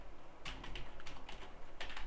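Quick keystrokes on a computer keyboard as an SQL query is typed, a close, fairly quiet run of clicks in short bursts with a brief pause, no voice.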